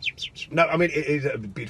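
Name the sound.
birds singing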